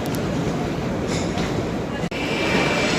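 Passenger train in Italy running on the rails near Milan, a loud, steady rumble with rolling wheel noise and a brief sharp clack partway through, with some speech mixed in.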